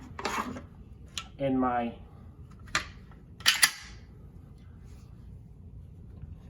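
Metal HK bolt carrier slid into a PTR91 rifle receiver, giving a brief rasping slide followed by sharp metallic clicks and clacks, close up, with someone speaking briefly.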